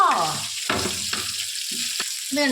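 Rava-coated fish frying in hot oil in a pan while a piece is turned over, giving a steady close sizzle with a few brief sharper crackles.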